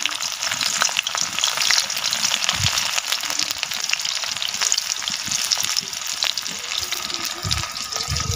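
Chopped onion sizzles and fries steadily in hot oil in a pan, a continuous bright crackle at close range with occasional stirring scrapes, cooked in a village kitchen.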